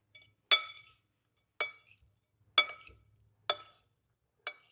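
Tofu being mixed with salt and black pepper in a bowl, the utensil giving five sharp clinks against the dish at a steady, roughly one-second rhythm, close and alone with no talk.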